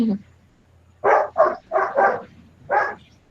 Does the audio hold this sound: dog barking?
yes